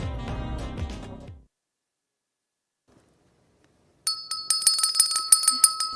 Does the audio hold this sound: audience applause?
no